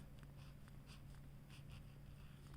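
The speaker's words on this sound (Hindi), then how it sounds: "यहाँ पे लिखेंगे" Chalk or pen scratches out short strokes on a board during a Hindi grammar lesson for young children, the soft irregular scrapes faint against a steady low hum.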